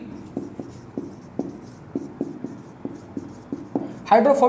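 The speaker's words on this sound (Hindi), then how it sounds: "यहाँ लिख दूँ मैं, हाइड्रोफोबिक" Chalk or marker taps and strokes on a classroom board in a steady series of short, distinct knocks, followed by a teacher's voice at the close.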